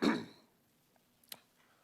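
One short, close throat clearing into a microphone at a council work session, then near silence with a faint click.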